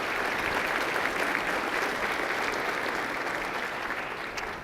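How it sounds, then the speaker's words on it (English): Steady, dense applause from a large audience at a city's State of the City event for the Chamber of Commerce team, clapping continuously at an even level and tapering slightly at the end. "Let's give the Chamber and their team a round of applause"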